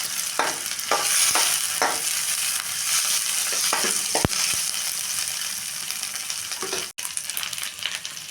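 Half a tomato sizzles and fries loudly in a pan for a black-eyed pea curry, a steady crackling hiss broken by occasional scraping stirs, with no voices.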